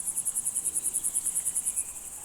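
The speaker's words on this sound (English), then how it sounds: "Grasshoppers live in the meadows and are also looking for love. Friction generates the chirping sound that brings partners together." Grasshoppers chirp in a meadow in Matsalu National Park, a rapid, even train of about twenty high, buzzy pulses, close and clear against quiet surroundings.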